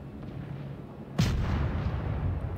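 A single heavy cannon blast from the cruiser Chester in World of Warships on the Island map, a sharp close boom followed by a long low rumbling tail.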